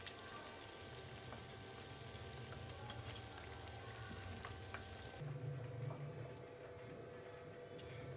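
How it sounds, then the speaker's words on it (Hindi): Chicken pakoras frying gently in oil over a low flame, a steady soft crackle and hiss with faint bubbling, continuous and close, no voices. "लो फ्लेम पे ही इनको फ्राई करना है।"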